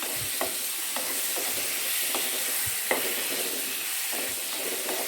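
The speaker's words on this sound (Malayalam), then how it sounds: "ഇനി നമുക്ക് പ്രോൺസ് ആഡ് ചെയ്ത് കൊടുക്കാം നമുക്ക് മിക്സ് ചെയ്ത് കൊടുക്കാം" Prawns are stirred into biryani masala in a pan, giving a constant sizzling hiss with a few soft spoon knocks and scrapes at intervals, close and steady with no talk.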